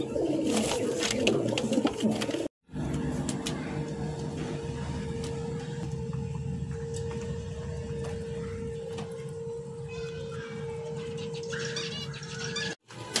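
A pair of black Sirazi pigeons coo steadily and softly at close range through a continuous low murmur, broken by two brief silent gaps, with faint background clatter near the end.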